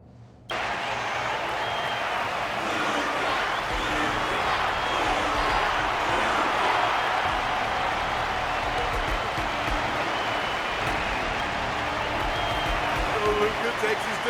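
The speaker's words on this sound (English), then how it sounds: "Their constant applause is a salute to this resilient Belobogian fighter." A stadium crowd in Honkai Star Rail applauding a Belobogian fighter, steady dense clapping and cheering starting abruptly and holding loud and even throughout, with talk over it.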